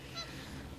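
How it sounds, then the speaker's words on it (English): Geese honking on a pond at a beaver-trapping site in November: a single short, faint honk, set against outdoor background noise. "I'm going to come across here where the noisy old geese are."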